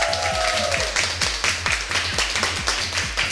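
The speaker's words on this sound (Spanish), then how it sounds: "Un aplauso para ellos." Rhythmic clapping from an audience at a school children's program in Villa María del Triunfo, a steady beat of claps keeping time, loud and near, with a faint tone in the background.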